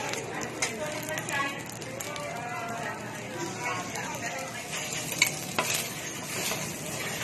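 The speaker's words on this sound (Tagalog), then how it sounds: "Ngayon naman ay niluluto ang egg." Egg cooking in a hot pan and being stirred into kimchi rice, a steady close sizzle with spatula scrapes and a few sharper clinks, continuing without pause.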